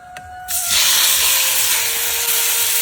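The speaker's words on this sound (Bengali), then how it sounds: "তেল গরম হয়ে গেছে, আর মাছগুলি ভাজছে নই" Live shing fish hit hot oil with a sudden loud sizzle that swells within a second and then hisses steadily and strongly until the end.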